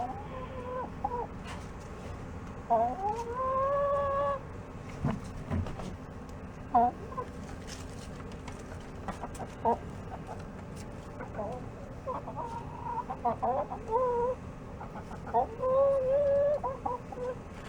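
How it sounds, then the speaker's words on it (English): Chickens cluck and call repeatedly in a farmyard, a mix of short clucks and drawn-out tonal calls spread across the whole stretch, fairly close, with a person talking at times among them. "Think you guys ever saw a chicken that looked like that"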